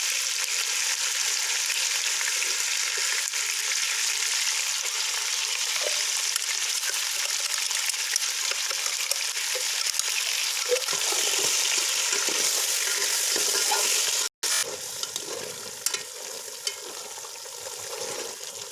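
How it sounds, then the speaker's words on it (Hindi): Chicken korma for a wedding-style degi dish sizzles and fries in a pot as ground masala is added and stirred in, a loud, steady hiss of hot oil with scraping strokes, close up and without speech. "अब हम इसके अंदर मसाला डालने लगे हैं जो मैंने ग्राइंडर किया हुआ है।"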